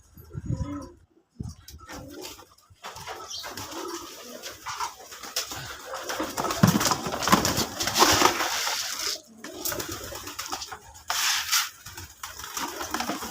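Desi Putul Golla pigeons cooing in a loft, soft repeated coos mixed with wing flutters and shuffling, close by, with intermittent pauses and no talk.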